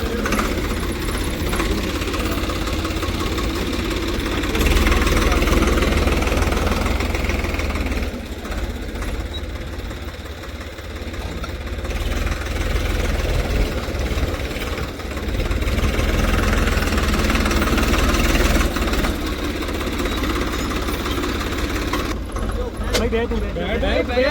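A tractor engine drones and throbs in low rumbling surges while pulling two stuck cars free off-road, rising and falling in load, with people talking over it throughout.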